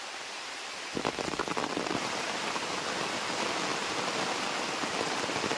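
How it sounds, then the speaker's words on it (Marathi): Monsoon rain falling, starting suddenly after a quiet moment and then settling into a steady, dense hiss of drops on surfaces that continues evenly to the end. "बघा पावसाचा आवाज येत असेल तुम्हाला।"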